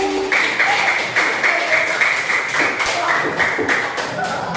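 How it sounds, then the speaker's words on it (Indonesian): Children in a classroom clap together for a classmate, a steady wash of many small hands patting close by, with a few louder taps and a murmur of voices underneath. "Kita kasih tepuk tangan untuk Magani."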